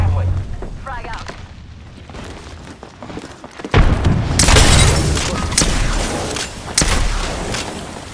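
A frag grenade explodes in a shooter video game, a loud booming blast that swells after a quieter stretch and rumbles on with more heavy thumps, over game sounds and a voice.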